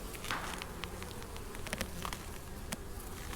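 Honey bees buzz steadily during an open hive inspection, a dense, continuous hum of many insects close by with faint clicks and rustles mixed in.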